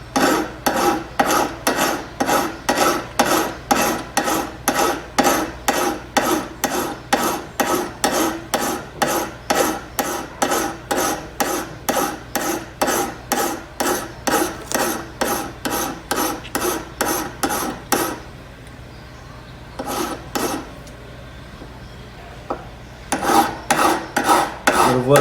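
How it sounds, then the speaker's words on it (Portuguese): Wood is hand-planed again along its top to thicken the tip. Long rhythmic rasping strokes, about two per second, sound close and loud and carry on for many seconds, with a short pause before they start again. No one speaks. "Eu vou planar novamente por cima para que ela fique mais grossinha"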